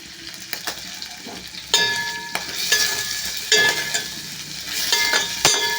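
Green chillies fry in a pan for a raw mango and prawn curry, with a steady sizzle broken by sharp bursts of spattering and spoon scrapes.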